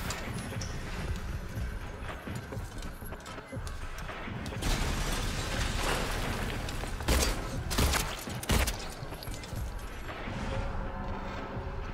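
Gunfire at a boss in Silent Hill 2 Remake, several sharp shots spaced unevenly over a steady dark game ambience, with heavy impacts and clattering in between.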